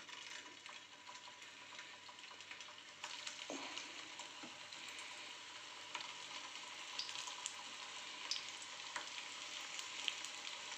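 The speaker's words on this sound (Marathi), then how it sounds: "आपलं तेल आता तापलेलं आहे. आपण एक एक टिक्की याच्यात सोडून घेऊया." Aloo tikki patties frying in hot oil over a low flame, a steady soft sizzle and crackle that thickens slightly midway, with occasional small pops and no talking.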